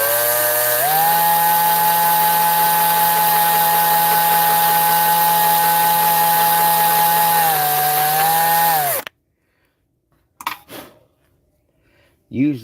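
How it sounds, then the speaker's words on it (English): A power drill whines loudly and steadily while drilling out a plastic frame, its pitch dipping briefly under load near the end before it stops, followed by a few short rustles and knocks. "let's go ahead and just drill this side out and get them both drilled out at the same time."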